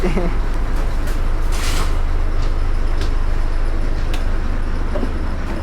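At a busy KSRTC bus stand, idling buses and traffic rumble loudly beneath people talking, with occasional hisses and clanks from nearby vehicles.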